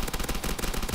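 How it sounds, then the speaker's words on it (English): Rapid automatic fire from a Thompson submachine gun in Call of Duty World at War, a dense unbroken stream of close, loud shots lasting under a second. "Bro, do you not see how many bullets I'm putting through this guy?"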